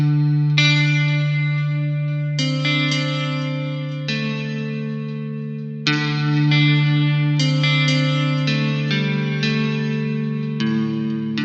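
A sampled guitar patch from the SOLE instrument plays sustained chords with a shimmering, effected tone, each chord ringing and decaying before the next, no voices.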